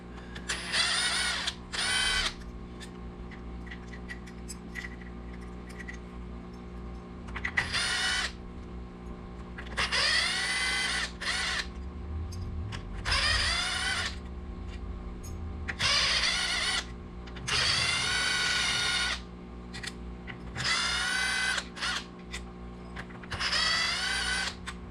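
Power tool whirring in repeated bursts as it removes bolts from a Yamaha Banshee engine case during a bottom-end teardown, each burst a few seconds long with short pauses between, close and loud over a steady hum.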